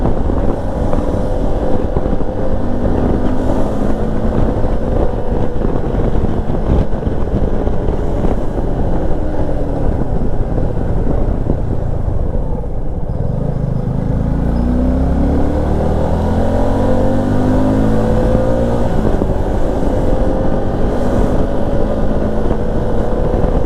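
Steady engine drone of a Suzuki V-Strom 250 SX motorcycle riding at speed on the road, loud and continuous under heavy wind rush, with a pitch shift midway as the pace changes.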